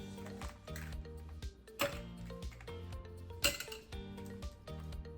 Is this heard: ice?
yes